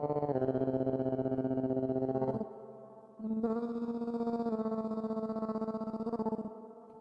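A buzzing, fuzz-distorted synth tone pulses in a steady beat, breaking briefly before resuming, with no voices.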